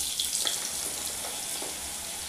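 Raw mango pieces tossed and stirred in hot oil with cumin for a sour-spicy pickle, giving a loud, steady frying sizzle with a few soft scrapes of the spoon, close by and without voices.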